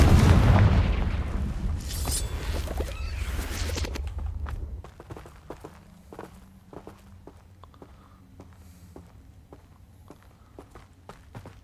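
A Confringo spell explosion in the game Hogwarts Legacy: a loud, booming burst that rumbles for a few seconds, then gives way to quiet scattered footsteps and small clicks.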